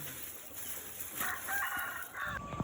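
A free-range hen cackles loudly in short repeated bursts after laying an egg, with other chickens and rustling farmyard noise in the background.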